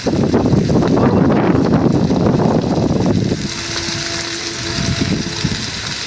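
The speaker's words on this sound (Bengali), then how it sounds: "প্রচুর বাতাস।" Strong cool wind buffets the microphone outdoors beside a pond, a loud roaring rush that eases after a few seconds into a quieter steady whoosh with a faint tonal hum.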